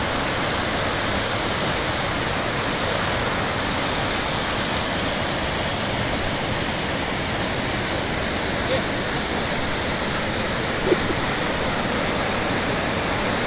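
Chitrabhi waterfall at Kabbinale in the monsoon, a dense, unbroken roar of heavy falling water that stays loud and even throughout, with no clear voices over it.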